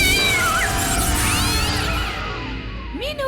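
A cartoon cat lets out loud, drawn-out wavering meows and caterwauls over a busy backdrop, then fades to a shorter rising mew at the end.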